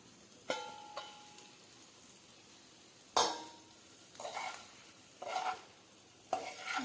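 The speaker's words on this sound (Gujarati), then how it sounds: "હવે તેમાં ઇડલી નાખીશું" Leftover idli pieces are tossed and fried in a pan, with five or so distinct scraping stirs of a spoon against the pan over a quiet, low sizzle.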